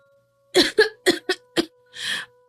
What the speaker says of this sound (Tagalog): Umuubo ka na nga na may kasamang dugo tapos ayos lang?